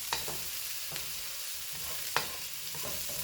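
Onions sizzle in a pan over medium-high heat for fried rice, a soft, steady frying hiss close by with a couple of brief stirring scrapes, no voices.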